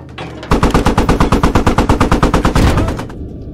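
Rapid automatic gunfire in the military shooter game Squad, a loud close burst of about twenty evenly spaced shots lasting roughly two and a half seconds, then ending abruptly.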